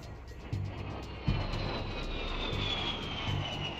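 A-10 jet aircraft flying basic training maneuvers such as banking, rolling and turning, a steady loud engine roar with a slowly sliding high whine and a couple of brief thumps, with no talk.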